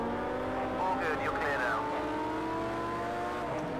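Porsche Carrera GT 2004 engine from a racing video game at the English Houghton Park circuit, a steady loud drone with rising and falling revs through gear changes, continuous throughout.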